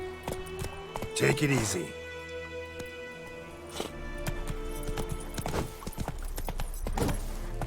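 Horse hooves clip-clop in The Witcher 3: Wild Hunt, a steady rhythmic trot with a brief whinny near the start and a voice speaking over the riding.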